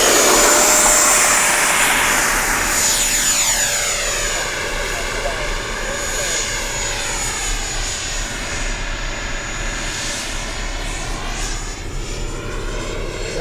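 A 70mm EDF FMS F-18 model jet roars loudly overhead, its whining engine sweeping in pitch as it passes, with people talking underneath.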